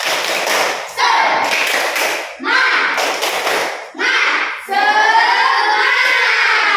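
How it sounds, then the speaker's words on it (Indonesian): Primary school class performing a rhythmic spirit clap in a classroom, bursts of group clapping and thumps in a patterned beat, loud and close, ending in a sustained flurry with voices mixed in. "Ayo, tepuk semangat."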